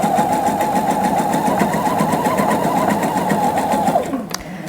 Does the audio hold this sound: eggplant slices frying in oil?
no